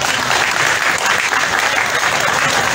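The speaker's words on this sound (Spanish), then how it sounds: "lo vamos a celebrar como es debido con un fuerte aplauso" Loud, dense clapping from a crowd at a health ceremony in Yapacaní, Bolivia, a sustained burst of applause with no pause.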